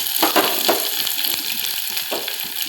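Garlic and chana dal fry in oil in a pan, giving a steady, close sizzle with light crackles throughout and no one speaking.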